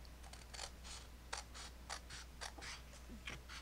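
Scissors snip through paper along a score line while making a paper basket, a series of short, soft, close cuts in an uneven rhythm over a quiet background hum, with no talking.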